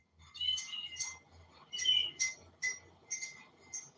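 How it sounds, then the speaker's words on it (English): A bird calls loudly and repeatedly in short chirping bursts indoors, with no talk over it. "That damn bird is very loud."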